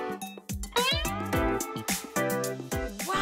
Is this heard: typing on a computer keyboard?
no